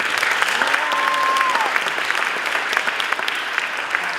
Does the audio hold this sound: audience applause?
yes